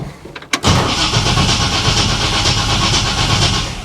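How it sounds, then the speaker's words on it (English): 1955 Chevy Nomad gasser with a newly tightened loose starter, a brief crank and then the engine catches and runs loudly and steadily up close. "I think it cranks all right."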